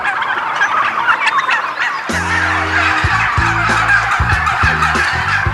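A flock of turkeys gobbles loudly and close in a garden, with overlapping bursts of rattling calls and honking notes from several birds and no talk over them.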